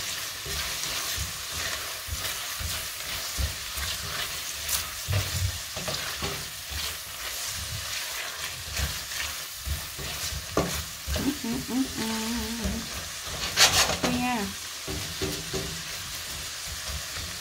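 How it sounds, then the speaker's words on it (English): Vegetables sauté in a pot for potato soup: a busy sizzle with frequent scraping and stirring knocks, and a few brief clatters near the end, without talk. "We sauteed our vegetables."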